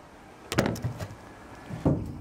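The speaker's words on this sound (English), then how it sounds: "I'm gonna close the door." A truck door swings shut with a solid thunk, followed a moment later by a second clunk as it latches; no voices.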